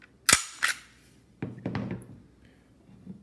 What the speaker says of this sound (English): lock your pistol back, take down lever forward,